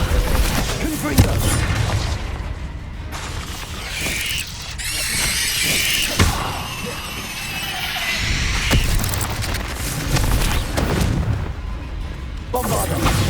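Fiery Confringo spell blasts in Hogwarts Legacy, a run of loud booming bursts and crackling impacts layered over continuous game combat noise, with mechanical clatter and squealing effects throughout.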